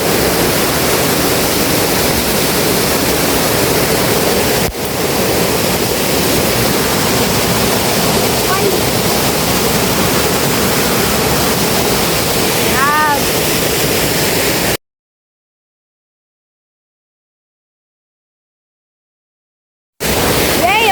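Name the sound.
waterfall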